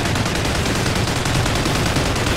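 Mounted turret machine gun in the Call of Duty Ghosts video game fires in a dense, continuous loud burst, rapid shots merging into a sustained roar with no talk.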